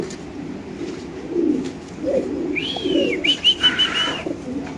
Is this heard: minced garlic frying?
no